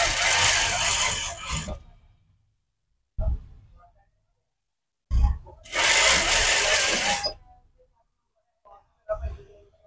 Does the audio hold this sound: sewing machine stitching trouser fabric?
yes